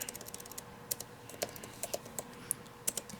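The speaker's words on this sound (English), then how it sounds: "I'm going to start typing." Light, quick taps on a computer keyboard, irregular bursts of keystrokes with short pauses, close and fairly quiet against a soft background.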